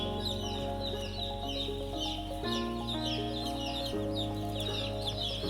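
Dozens of young chicks in a brooder peep and cheep continuously, a dense chorus of high chirps that fills the space steadily throughout, with low background hum and no talking.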